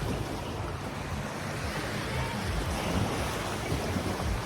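Ocean waves wash steadily near the shore in a continuous broadband rush, mixed with wind buffeting the microphone, with no voices.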